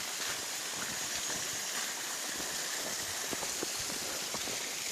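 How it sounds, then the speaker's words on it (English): Steady rushing water of a river flowing through jungle, a constant broadband wash close by with scattered splashes and droplets, no voices. "Lovely, refreshing sound of a river"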